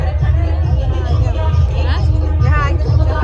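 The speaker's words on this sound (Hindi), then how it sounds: "पिज्जा खा रहे, पिज्जा में भीड़ लगी हुई है।" Wedding guests crowded around a pizza stall, with many voices chattering at once in a steady, close hubbub and no single speaker standing out.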